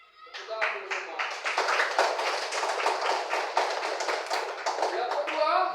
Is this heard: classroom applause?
yes